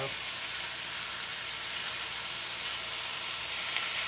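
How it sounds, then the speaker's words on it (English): Pesto sizzles steadily in a hot Dalstrong Avalon Series 12-inch straight frypan, giving a dense, even frying hiss that holds close and loud the whole time with no break. "just add my pesto"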